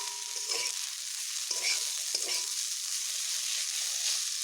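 Water spinach frying in a pan over medium heat, giving a continuous steady sizzle broken by a few scraping stir strokes.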